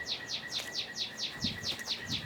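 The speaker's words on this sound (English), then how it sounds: "There's a bird nest in the hedge somewhere, and my walking around out here shooting videos probably made them mad." Agitated birds near a nest in a hedge give a rapid series of sharp, regularly repeated chirps, about four per second, fairly close and clear over quiet outdoor background.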